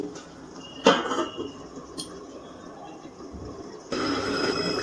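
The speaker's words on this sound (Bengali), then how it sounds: "এবারে একটা ঢাকনা দিয়ে আবারও আমি কিছুক্ষণের জন্য ঢেকে দিচ্ছি।" A lid set onto a cooking pot of jackfruit and prawn curry, one close metallic clank followed by a lighter clink, then a steady low simmering hiss.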